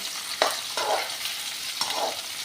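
Long-sliced onions fry in a pan for an aloo baingan sabzi, with steady sizzling broken by a few scraping stirs of a spoon, close and alone without talk.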